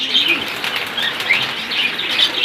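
Pigeons at a bird market in Jinjira Bazar, Keraniganj, Dhaka flap their wings in a continuous fluttering rustle, mixed with light chirps and bird calls from nearby cages, with no voices.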